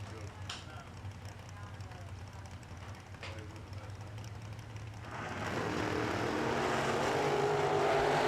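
Drag race cars launching at a bracket racing event, a Mopar against a Malibu, with engine roar swelling loudly from midway and building steadily to the end; quieter engine rumble and commentator talk fill the opening seconds.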